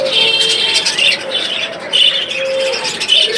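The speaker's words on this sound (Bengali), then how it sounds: "এইখানে দেখতে পাচ্ছেন এক জোড়া ক্রিমিনো কালার বাজিকার পাখি" A pair of creamino budgerigars gives repeated bright chirps and short squawky calls, close and clear, in quick bursts with brief gaps.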